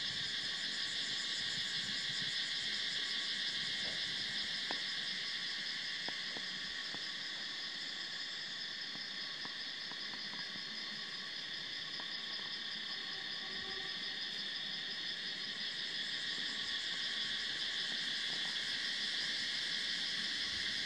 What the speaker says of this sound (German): Im Hintergrund die Grillen.